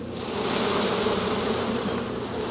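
A dense, continuous hum of many honey bees buzzing close by during a bee cutout, steady and fairly loud throughout.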